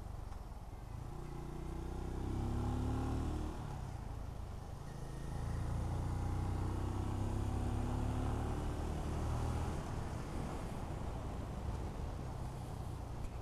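A Benelli Imperiale 400 motorcycle engine runs with a fairly neutral tone, rising twice in long steady revving passes over a broad rumble, moderately distant and without talk.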